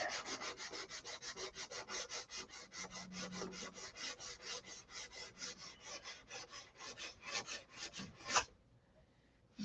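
Rhythmic rasping strokes of sandpaper on a SIG Magnum model airplane, steady back-and-forth rubbing close up for several seconds, then a sharp knock and quiet.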